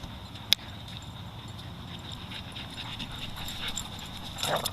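A German Shepherd puppy whimpers faintly in a small room, soft intermittent whines over steady low background noise, with a sharp knock early on and a brief rustle near the end.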